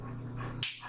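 A dog gives a short, low rumbling growl at close range, ending in a brief sharper sound.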